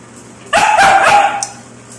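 A pet dog, recently recovered from illness, lets out a short burst of loud, close barks lasting under a second, with a faint yip trailing after, and no talking.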